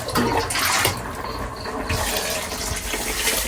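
Water poured into a pot of rice that has nearly cooked dry, a steady gushing fill heard close and continuous with no talking.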